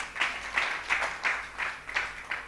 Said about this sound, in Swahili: Mũhũrĩrei makofi.